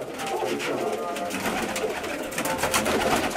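Rajan pigeons keep up a close, steady chorus of overlapping coos, a dense murmuring throb that carries on without pause.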